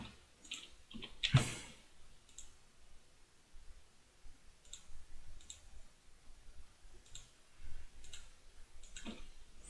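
Soft, sharp clicks scattered at irregular intervals, like a mouse button being pressed, close and fairly quiet over faint background hiss.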